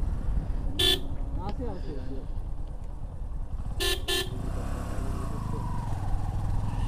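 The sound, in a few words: motorcycle horn honking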